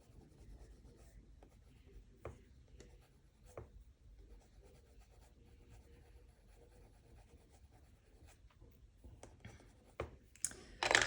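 A colored pencil held on its side glazes pink shading onto paper in a terrier drawing, following the direction of the fur; quiet, close scratchy strokes repeat steadily, with a few louder scrapes near the end.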